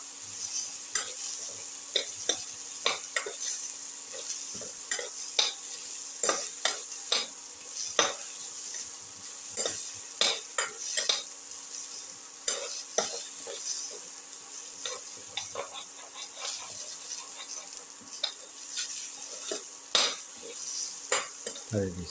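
Chopped ginger sizzles in a hot pan for a chicken tomato casserole, with frequent sharp scrapes and clinks of a spatula stirring against the metal over a steady low frying hiss.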